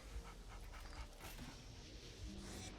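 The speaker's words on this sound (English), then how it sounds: "You've got the little monster breathing hard" A small monster in a Ghostbusters video game pants hard in quick, ragged breaths, a steady rasping rhythm under constant game noise with no talking.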